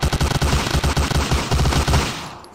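Thompson submachine gun firing in the video game Hidden & Dangerous 2: sustained rapid automatic bursts, loud and close, with short gaps between volleys before the fire stops at the end.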